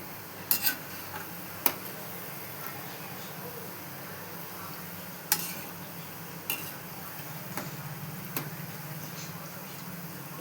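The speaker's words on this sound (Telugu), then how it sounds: "ఇంకొంచెం గోల్డ్ కలర్ వచ్చేదాకా వేయించుకోవాలి." Punugulu batter fritters frying in hot oil, a steady low sizzle with a few sharp clinks of a utensil against the pan scattered through.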